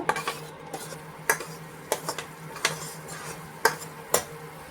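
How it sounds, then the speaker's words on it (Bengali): Ground sesame paste stirred with water and Kashmiri chilli powder in a pan for a parshe fish curry: a spoon scrapes and clinks against the metal in sharp, irregular strokes over a low steady hum. "এবারে একটু ভালো করে এগুলো নেড়ে চেড়ে মিশিয়ে নেব।"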